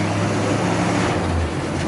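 A Dodge 300 club cab one-ton dually truck, an original classic with patina, rolls around a parking lot, its engine a steady low rumble with broadband road and exhaust noise held at an even level throughout.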